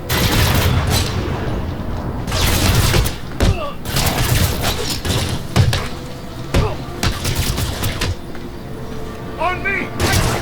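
Gunfire in the Batman: Arkham City video game, with repeated loud volleys and bursts of shots in irregular clusters, some thudding impacts between them, and voices calling out amid the shooting.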